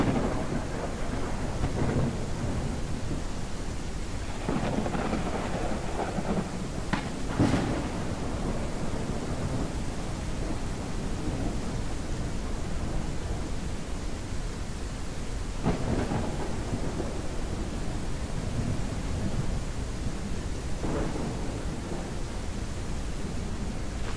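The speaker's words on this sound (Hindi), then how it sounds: "बहुत तेज़ बारिश हो रही है।" Steady heavy rain pours with low rolling rumbles of thunder, several louder cracks standing out, in the video game Ranch Simulator.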